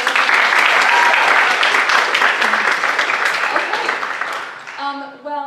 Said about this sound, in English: Can we get another round of applause for all of our listeners?